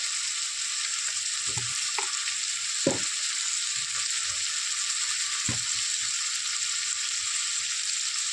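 Spices fried and stirred in a pan: a loud, steady sizzle throughout, with occasional soft knocks from the stirring spoon.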